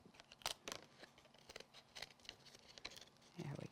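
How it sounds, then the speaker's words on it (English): Scissors angled inward trim the edge of a paper craft piece, giving a run of crisp, close snips in an irregular rhythm. The cuts are quiet, and a soft voice comes in near the end. "if you just angle your scissors in a little bit, you won't see the edge of that"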